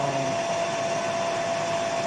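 A bandsaw with a carbide-tipped blade runs at a steady, fairly loud whine while feeding slowly through a cut, with a constant tonal hum and no talking.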